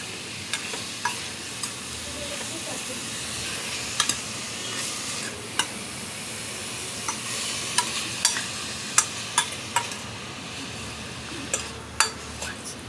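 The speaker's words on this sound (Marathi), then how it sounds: "आता छानपैकी गाजर गोल्डन ब्राऊन होईस्तोवर आपल्याला परतून घ्यायचं आहे" Grated carrots for carrot halwa being stirred and sautéed in a pan until golden brown, a steady soft sizzle with a few sharp spoon clinks against the pan spaced through it, and no one talking.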